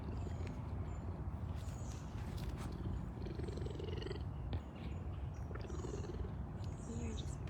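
A deep, rumbling purr from a big cat, steady and continuous up close, with faint rustling around it.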